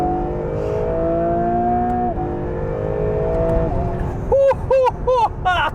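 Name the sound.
Acura NSX Type S supercar driving on road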